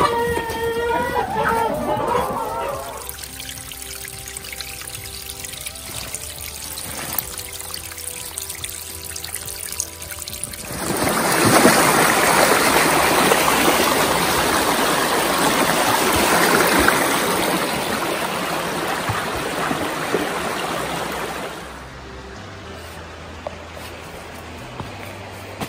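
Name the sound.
creek water flowing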